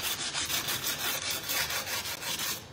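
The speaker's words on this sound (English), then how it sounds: "So we're going to come in with the coarser sandpaper because we want to scratch it up really, really well." Coarse 80-grit sandpaper scrubbed by hand over metal, giving a continuous close scratchy rasp of quick back-and-forth strokes with no pauses and no talking.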